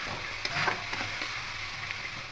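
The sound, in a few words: sour yogurt spice paste added to frying pan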